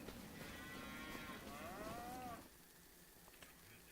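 Cattle in Farming Simulator 25 give a single long, drawn-out moo that rises and falls before fading, leaving quiet background ambience.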